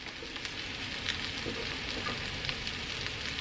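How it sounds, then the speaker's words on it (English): Precooked sausage sizzling in a 12-inch heavy-duty 5-ply stainless steel pan, a steady dense hiss with faint crackles, constant and fairly quiet, with no talking. "Last thing, we'll add the sausage."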